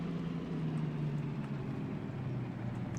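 A DE2 diesel locomotive in the train game Derail Valley runs with a steady low engine drone and rumble after a little throttle is given, a constant, even hum without pauses or voices.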